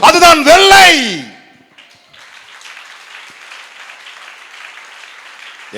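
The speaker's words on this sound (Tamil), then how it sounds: "என்ன விசுவாச கைத்தட்டு." A church congregation at a Sunday worship service breaks into applause, a steady wash of clapping that follows a loud voice and carries on to the end of the clip.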